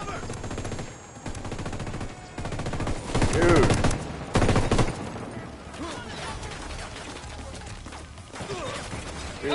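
Video game battle gunfire, dense bursts of automatic fire and heavy impacts, loud and close, with a lull in between and further shots later.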